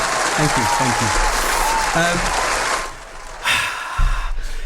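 Audience applause at a Bollywood charity night, a short burst of clapping mixed with speech and music, dipping midway and then returning briefly near the end.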